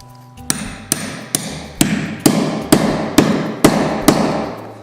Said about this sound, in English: we actually nail it right onto the stud